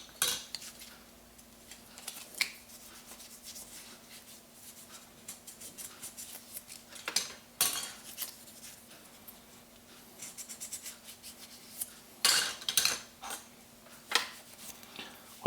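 Light clinks and scraping of a pate knife being handled and wiped down during a Russian survival ration unboxing, with sparse metallic taps and brushing strokes at close range and a steady low hum underneath.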